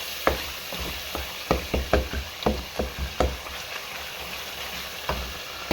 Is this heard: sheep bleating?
no